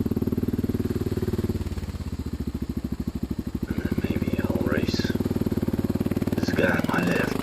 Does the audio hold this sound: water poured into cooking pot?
no